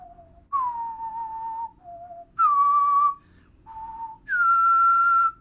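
A person whistles the Kakariko Village melody from the Zelda Wind Waker video game, clear sustained notes in short phrases with small pauses between them, close and alone over a faint low background hum.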